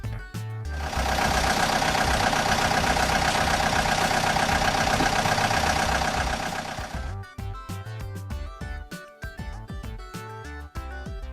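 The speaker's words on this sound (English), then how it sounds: "Excavator." A loud, steady excavator engine runs continuously for several seconds with a dense mechanical roar, then cuts off and gives way to quieter background music.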